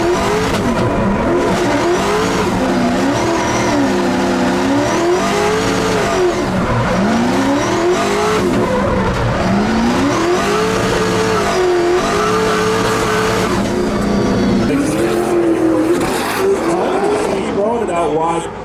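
Cummins diesel–swapped Corvette at a car competition, its engine revving loudly in rising and falling surges over a steady rumble, with a crowd's voices underneath.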